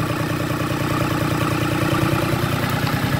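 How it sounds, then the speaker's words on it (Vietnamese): A Kubota 662 diesel engine runs steadily at a farm machinery shop, giving an even, close-up rhythmic chugging and clatter that stays at constant loudness with no talk. "Máy nổ cực kỳ êm luôn nha anh em."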